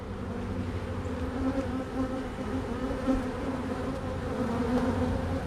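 Honey bees hum in a dense, continuous drone around an opened hive during an inspection of frames holding honey, nectar, pollen and brood, steady and close with gentle swells, no voices over it.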